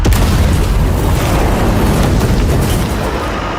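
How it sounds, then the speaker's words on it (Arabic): A directed explosive charge, a roadside bomb set off in an Egyptian drama film, erupts as a loud, sustained roaring blast that fills the whole stretch and fades slightly at the end. "فجر العبوه موجهه"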